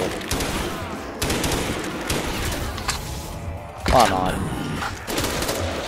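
Bursts of HK gunfire in a Call of Duty Zombies custom map, rapid shots in short volleys over game noise, with a voice speaking briefly.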